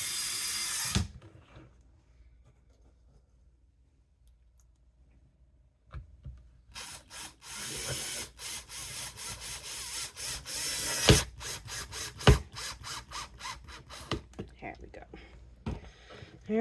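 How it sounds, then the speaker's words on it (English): Drilling small pilot holes and driving screws into dry wood while assembling a floater picture frame: short bursts of a power drill spread across the clip, separated by quieter gaps and handling knocks, close by. "I do a little pilot hole. Then I can just pop my screws in."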